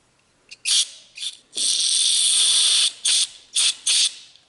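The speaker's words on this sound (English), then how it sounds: "when you spray in a port, you want to try to find out where it's spraying out somewhere" Carburetor cleaner sprayed from an aerosol can into a port on a small engine carburetor: several short sharp hissing bursts, then one long sustained spray and three more quick bursts, close and loud with no talking.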